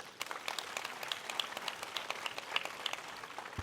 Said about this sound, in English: A big round of applause to our chairperson, Kavita Paramesh.